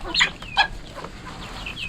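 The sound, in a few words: chicken clucking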